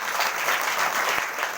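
A church audience at a Sunday morning ministry service claps in steady, dense applause that holds at an even level throughout.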